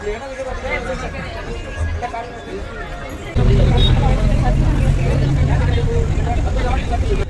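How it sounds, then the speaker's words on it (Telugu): A crowded bus bound for Gangapur, packed with passengers whose dense overlapping chatter fills the space, and the engine rumble rises sharply and stays loud as the bus gets going. "క్రౌడ్ కూడా చాలా గట్టిగా ఉంది."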